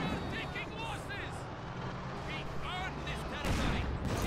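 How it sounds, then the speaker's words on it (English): Mortar shell fire and battle noise from Company of Heroes 2 form a dense, constant rumble, with a heavier blast near the end and thin whistling tones above. "Oh, nice mortar shell there."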